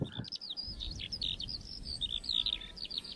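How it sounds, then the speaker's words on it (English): Skylark singing over a restored bog, a continuous run of high, rapid warbling trills heard at moderate distance over a low wind rumble. "Birds like skylark, which we've heard so many of today, have really increased again as the bogs become healthier."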